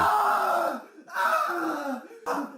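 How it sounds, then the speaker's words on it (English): A character in the video game AIDSmoji screams in three drawn-out, strained cries broken by brief pauses, with a rough, groaning vocal quality. "Johnny is screaming despite his mouth being closed."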